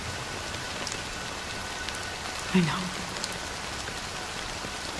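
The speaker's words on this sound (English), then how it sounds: "But it's still raining." Steady rain falls in Honkai Star Rail as a soft, constant patter throughout, with one brief soft thump partway through and a few quiet spoken words.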